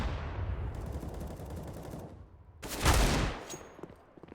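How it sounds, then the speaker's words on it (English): Desert Eagle pistol fire in a competitive Counter-Strike match on the Nuke map, heard as a loud burst of shots that stands out over steady game noise, with no talking. "Melio, nice little deagle there onto JT."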